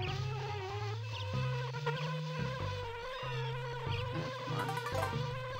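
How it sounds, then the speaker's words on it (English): Bees buzz in a Banjo-Kazooie style video game, a steady droning hum running under looping game music at moderate level, with no voices. "Now get away from me, you pesky bees."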